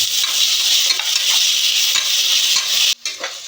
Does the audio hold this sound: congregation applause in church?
no